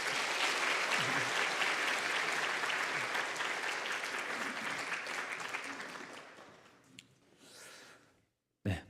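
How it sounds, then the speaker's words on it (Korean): Warm applause from a church congregation at a Sunday afternoon service, greeting a pastor as he comes forward; steady dense clapping that gradually fades over several seconds, ending in near-silence and a few faint bumps. "따뜻한 박수로 맞이하겠습니다"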